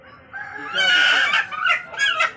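A black Australorp rooster crows loudly and close by, one long drawn-out crow followed by a couple of shorter, broken calls.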